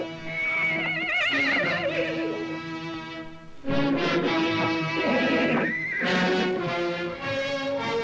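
A horse neighs loudly and close by, two long wavering whinnies separated by a short pause, with no talk over them.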